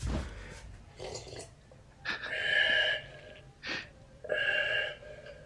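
A person imitates a thirsty kid drinking from a cup, making loud wheezing, snorting breaths and gulps in a few close bursts.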